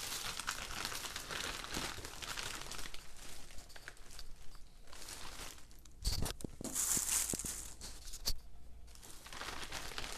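Plastic packaging crinkles and tears steadily while a Kindle Paperwhite e-reader is unpacked. The rustling is close and continuous, with a few sharper crackles and rips and no talk.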